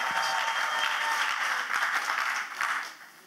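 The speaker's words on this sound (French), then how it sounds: "Clap offering Jesus Christ" A church congregation at a national Bible camp claps together in steady, dense applause for a few seconds before it fades away.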